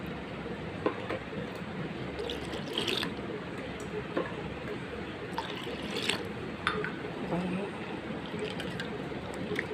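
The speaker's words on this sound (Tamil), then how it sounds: "நல்லா கழுவி ஊற வச்சிடலாம்." Lentils being washed in water for a lentil-ball curry, with close splashing, swirling and dripping sounds plus occasional clinks against a vessel, steady and moderately quiet.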